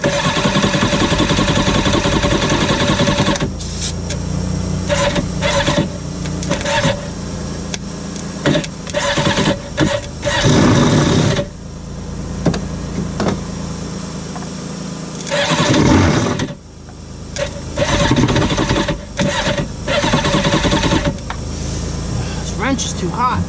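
A used WaveRunner jet ski engine is cranked and fired up, then runs roughly, cutting in and out through repeated revving stretches and pauses. The engine is close and loud, with people talking over it.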